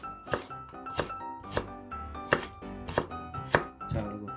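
A knife julienning carrots on a cutting board for tteokbokki makes about eight steady, evenly spaced chops. Each sharp, close knock rings briefly, and there is no talk.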